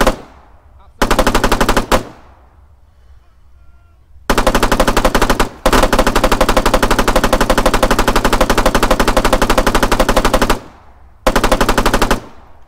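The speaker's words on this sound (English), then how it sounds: "It's a machine gun. A light machine gun." A Spar-16 5.56mm light machine gun in Arma 3 fires loud, sustained automatic bursts, some short and one lasting several seconds, separated by brief silent gaps.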